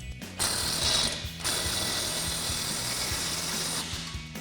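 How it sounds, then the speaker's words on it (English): A ratchet with a 16mm socket tightens the exhaust tip clamp on a Silverado 1500 AWE dual exhaust, rapid close clicking in two bursts separated by a brief pause. "we'll grab that 16mm socket to tighten it down"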